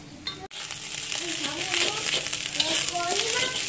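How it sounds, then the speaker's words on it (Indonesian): Rice being stir-fried for nasi goreng with beef hisses and sizzles steadily in a hot pan, with brief scraping and stirring clatter close by and a voice speaking faintly underneath. "Masuk nasi. Teruskan goreng."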